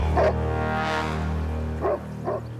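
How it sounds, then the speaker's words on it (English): A two-year-old Great Pyrenees guard dog on a farm lets out a few loud, deep barks close by, spaced apart with pauses between them, with a steady low hum underneath. "So he's standing there barking just to make sure that whatever it was knows that he's there"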